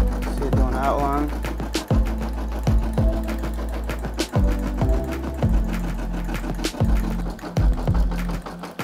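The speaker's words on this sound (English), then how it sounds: "Looks like it's stitching out nice and good." A Brother SE600 embroidery machine stitches the outline of a TV channel patch, giving a steady, close mechanical chatter with rhythmic needle thumps that repeat roughly every half second.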